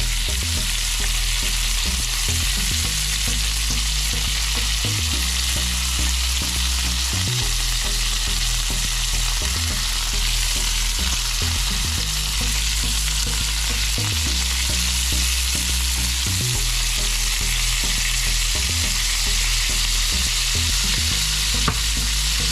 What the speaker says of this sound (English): I'm going to baste them again with the butter flavored mixture, butter and herbs.